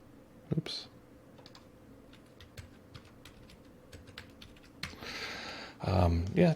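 Light, quick keystrokes on a computer keyboard patter irregularly at close range, broken by a sharper knock early on and a rush of louder noise toward the end.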